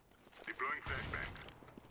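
A flashbang grenade goes off in the Counter-Strike: Global Offensive game, a loud broadband burst lasting about half a second, with game sounds and a voice heard around it.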